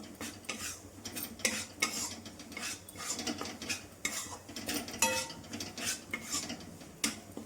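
Madua (ragi) flour roasts in a pan while a utensil stirs and scrapes it in steady, repeated strokes, with a light sizzle underneath and no talking.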